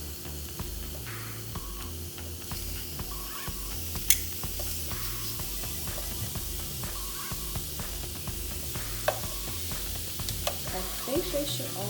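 Pork chops sizzle on a hot grill with a continuous close crackle and a few sharp clicks and taps. Soft background noise sits underneath, and no one speaks.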